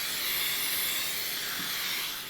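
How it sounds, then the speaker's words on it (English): Joy cooking spray hisses steadily from an aerosol can onto two 9-inch baking pans, one continuous close spray with no pauses and no talk over it. "we're going to take some Joy and we're going to spray these pans"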